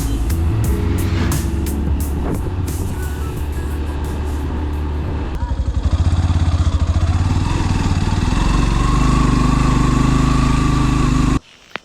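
A motorcycle engine runs loudly and close, droning steadily, revving up partway through before cutting off abruptly near the end.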